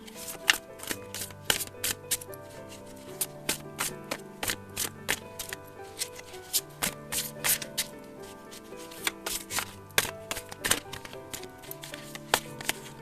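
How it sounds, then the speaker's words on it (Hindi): Tarot and oracle cards are shuffled and drawn by hand, giving a busy, uneven run of crisp card slaps and riffles with faint background music underneath. "टैरो में से हम 5 कार्ड लेंगे और ओरेकल में से 10 कार्ड।"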